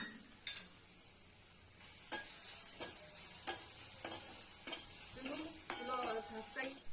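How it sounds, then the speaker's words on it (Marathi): A ground green chilli paste fries in oil with a soft, steady sizzle, punctuated by repeated taps and scrapes of a spoon against the pan. "आता ते तेलात परतून घेते थोडंसं"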